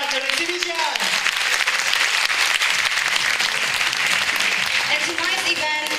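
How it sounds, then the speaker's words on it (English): Big round of applause from an audience at an Indonesian Culture Exhibition held at National Taiwan University of Science and Technology, dense steady clapping for six seconds with a few voices mixed in. "please give a big round of applause for the 10 years old of Indonesian Culture Exhibition"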